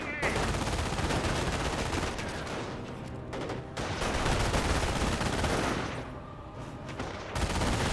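Sustained automatic gunfire from a machine gun and Jeep in the World War II strategy game Company of Heroes, dense continuous bursts under a US 30 cal, mortar and Schwimmwagen battle, loud and close with a voice talking over it.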